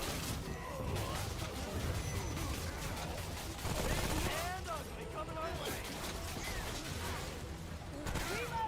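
Turrets firing in the video game Remnant: From the Ashes, dense bursts of gunfire and crashing impacts layered through a busy battle with voices talking over the top.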